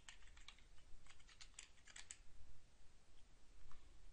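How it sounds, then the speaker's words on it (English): Quiet, close typing on a computer keyboard as a search keyword is entered, with a quick run of light key clicks and a few sharper taps. "So I will type in the main keyword, marijuana, in the first search box."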